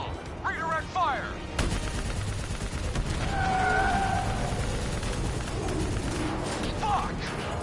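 Bursts of gunfire in a Black Ops 3 campaign battle, with rapid automatic fire and sharp shots rattling over a dense combat din while voices shout.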